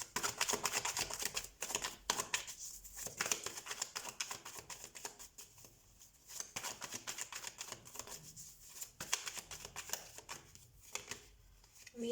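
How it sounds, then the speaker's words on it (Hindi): Tarot cards are shuffled close up in quick, crisp riffling bursts that repeat across the whole stretch, fairly loud and with no talk. "सो हम कार्ड शफल कर लेते हैं।"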